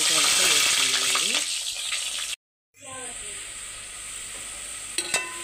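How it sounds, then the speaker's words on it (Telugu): Onion pieces frying in hot oil for khichdi make a loud, bright, close sizzle with a few stirring scrapes, cut off by a brief silence before the sizzle returns a little quieter, with a sharp clink near the end. "నూనె వేడైన తర్వాత ఉల్లిపాయ ముక్కలు వేసుకున్నామండి"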